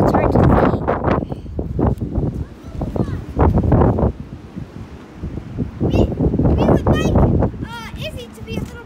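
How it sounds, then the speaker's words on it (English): Gusty wind buffets the microphone outdoors at a croquet tournament, a loud rumbling roar that rises and falls throughout, mixed with people talking nearby and brief high chirpy sounds near the end. "Sorry about this, but it's pretty windy, so it's hard to see."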